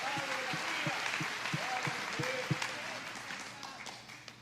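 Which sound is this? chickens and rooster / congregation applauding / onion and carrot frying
congregation applauding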